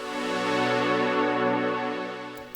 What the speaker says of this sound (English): because without the reverb it sounds like this